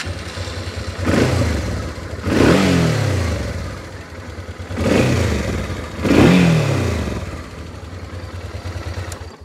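Honda XL650V Transalp motorcycle, 650 cc engine, idling between repeated revs: two pairs of sharp throttle blips rising and falling back to a steady idle, loud and close with no talking.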